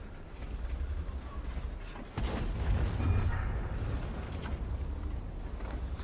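Artillery fire in World of Tanks lands as a sudden heavy boom partway through, over a continuous low rumble of battle.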